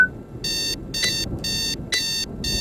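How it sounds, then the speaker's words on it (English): A video game alarm clock rings in repeated bright electronic beeping bursts, about four short pulses with brief gaps, loud and close over a low background hum. "Alarm about to wake me up"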